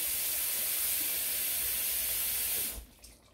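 Warm water pours in a steady hissing stream into a pot of gizzard curry, then stops abruptly near the end, leaving quiet.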